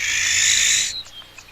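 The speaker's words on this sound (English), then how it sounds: "That owl's a friendly neighbor." An owl lets out one loud, harsh, sustained screech lasting nearly a second, then breaks off into a few faint trailing notes.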